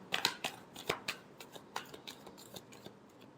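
Tarot cards are shuffled close by but quietly, a run of soft, crisp taps and riffles in an uneven rhythm that gradually fades.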